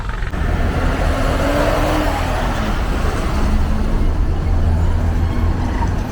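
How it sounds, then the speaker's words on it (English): A city bus rumbles past on a street in San Luis Potosí, Mexico, a steady loud engine drone with traffic noise that holds for several seconds close by. "Wish this bus would get out of the way."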